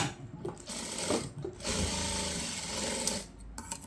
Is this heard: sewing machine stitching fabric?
yes